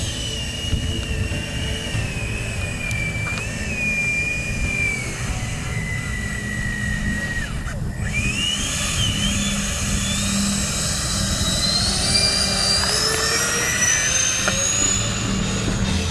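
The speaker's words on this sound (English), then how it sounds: "taxi the A-10 onto the runway and make it look like a scale Air Force takeoff" FMS A-10 Warthog V2 large-scale RC model jet taxiing onto a runway, its steady electric ducted-fan whine rising and shifting in pitch over a continuous outdoor rumble, no talk.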